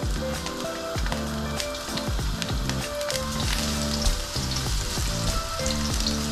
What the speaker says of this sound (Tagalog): Ngayon, magsapay tayo ng garlic and onion.